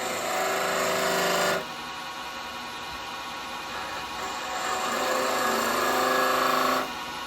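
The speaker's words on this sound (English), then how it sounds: "We're going to stay with a bigger gouge at the moment because it gives me a bit less vibration." A log spinning on a wood lathe as a large gouge cuts into it, giving a steady rasping, scraping whir that eases for a few seconds in the middle before the cut resumes.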